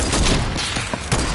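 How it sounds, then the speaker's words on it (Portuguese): A rapid burst of gunfire, dense overlapping shots crackling loudly across the whole moment, no talking. "Ah, tomou dois tiros e morreu"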